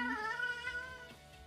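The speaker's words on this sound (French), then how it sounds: "c'est mon chat, oui, enfin il parle" A pet cat gives one long, drawn-out meow, close and fairly quiet, slowly trailing off with no talking over it.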